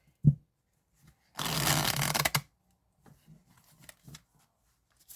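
A quick riffle of a tiny tarot deck being shuffled, a soft papery burst lasting about a second, with faint handling taps before and after.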